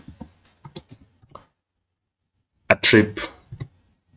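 Someone types a short command on a computer keyboard in a few light, quick clicks, then a run of louder, denser keystrokes follows after a silent gap, close by and with no voice over it.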